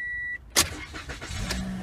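A 2016 Toyota Corolla started with the valet key: a steady warning chime gives way to a brief starter crank, then the engine catches and settles into a close, even idle.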